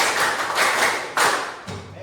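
Hand claps in a counted rhythm for a classroom concentration drill: a few distinct claps spaced apart, crisp and near, with a last softer clap near the end.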